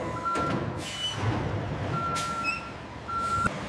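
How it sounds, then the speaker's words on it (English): Trucks reversing at a cassava flour factory, sounding three evenly spaced high reversing beeps over a low idling engine rumble, with brief hisses of air brakes in between. "Trucks arrive on schedule, ready to carry the finished product to market."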